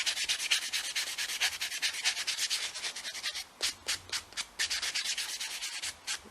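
A nail buffer is rubbed rapidly back and forth across a fingernail during nail art, making quick, close, steady scratchy strokes in an even rhythm, with no talk.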